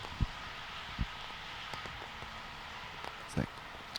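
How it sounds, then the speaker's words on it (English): Heavy rain pours down on a disc golf course during a pro tournament round, a steady hiss of falling water with a few sharp thumps and taps scattered through it. "The rain just came in on the last hole, really, really hard on that hole 9"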